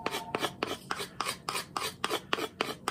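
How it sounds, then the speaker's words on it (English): A Morakniv Kansbol knife blade scrapes along a carved wooden spatula to smooth it, giving about a dozen close, rhythmic rasping strokes, evenly spaced and alone. "actually rub the blade on here, smoothing areas out"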